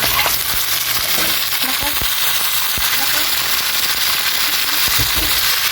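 Browned onion and garlic frying in a pan give a loud, steady sizzle, broken now and then by sharp pops and the scrape of stirring, all close up.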